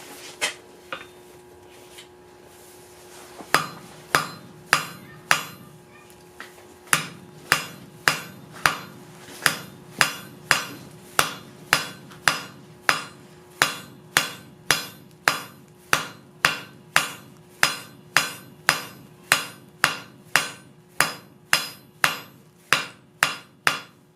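Steady hammer blows forge a taper on quarter-inch rod for a Celtic bracelet, ringing strikes falling in a fast, even rhythm of roughly thirty hits, loud and close, with a few slower blows at the start.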